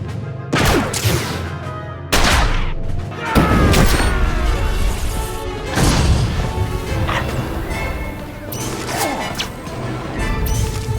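Combat in Star Wars The Old Republic: a loud, dense barrage of blaster fire, crashes and impacts with repeated bursts and booms across the whole stretch, no pauses, no talk.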